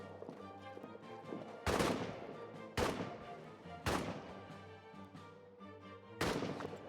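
Gunfire in the trench-warfare video game All Quiet in the Trenches: four loud, sharp volleys at irregular intervals, each fading quickly, over a steady low musical drone.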